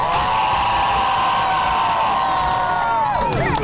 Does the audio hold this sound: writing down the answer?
no